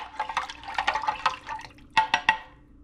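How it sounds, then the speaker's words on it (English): Liquid poured over a casserole splashes and trickles steadily for a couple of seconds, followed by a few distinct drips or splats as the pour finishes. "And we're gonna pour this right over top."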